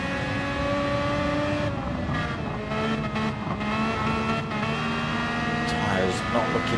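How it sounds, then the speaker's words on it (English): Classic Formula 1 race car at Brands Hatch GP Circuit, engine droning steadily with throttle stabs and a brief drift through a corner, heard continuously under a commentator's talk. "that's stabbing the throttle a few times just to keep that thing pushed around the corner"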